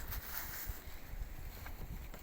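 Steady outdoor wind rumbling and buffeting against the microphone, low and constant, with faint background noise and no talking.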